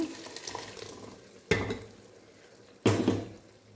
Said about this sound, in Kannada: ಈ ಮಸಾಲೆ ಸ್ವಲ್ಪ ಎಣ್ಣೆಯನ್ನು ಫ್ರೈ ಮಾಡ್ತಿದ್ದೀನಿ.